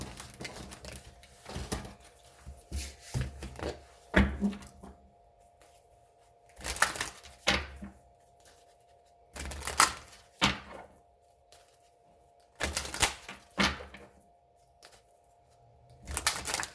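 Tarot cards gathered and shuffled by hand, bursts of papery riffling and tapping in irregular clusters separated by quiet gaps, close and moderately soft.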